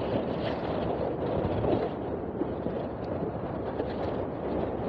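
Wind buffeting a moving motorcycle on a highway ride from Chidambaram to Madurai, a steady, loud rushing roar across the microphone with slight surges and no talk.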